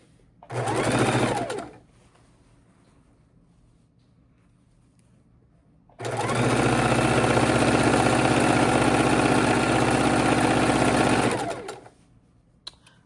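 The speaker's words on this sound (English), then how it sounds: "We'll start sewing these down." A sewing machine stitches quilt pieces in two loud close bursts: a short run of about a second, then after a pause a steady whirring run of about five seconds.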